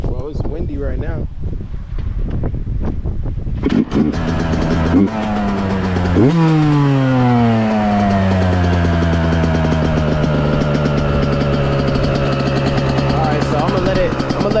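A Yamaha YZ125 dirt bike engine kicks to life after a few seconds of wind noise, revs sharply, then settles into a loud, steady buzzing idle while it warms up outdoors.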